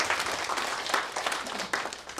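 Brief audience applause greets a performer at a Korean folk song competition, a dense wash of clapping at moderate volume lasting a couple of seconds.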